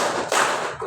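A group claps out a short counted pattern in a classroom clapping game, with a couple of dense, overlapping hand claps close by and no talking.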